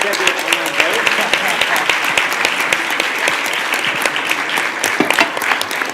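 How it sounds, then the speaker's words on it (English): An audience at Politifest 2025, a live civic event, breaks into a round of applause: many hands clapping steadily and loudly, with a few sharper individual claps standing out and faint crowd murmur beneath. "That- round of applause."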